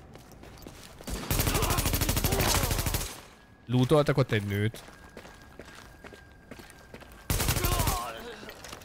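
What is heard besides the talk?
gunfire in video game Tom Clancy's The Division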